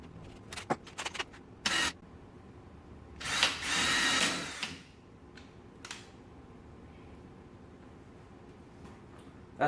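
A power drill driving screws into wood whirs in a few short bursts, then one longer, louder run, with faint clicks and handling noise in between.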